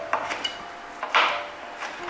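A kitchen knife slices soaked shiitake mushrooms into strips on a cutting board, giving a handful of separate light taps and one longer scraping cut over about two seconds, close and clear.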